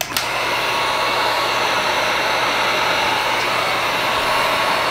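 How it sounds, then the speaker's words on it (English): A hot air blow gun blasting into a candle mold, a loud, steady close whoosh of forced hot air that starts with a click and holds without a break. "I have a hot blowgun, and you simply just blow inside of the mold."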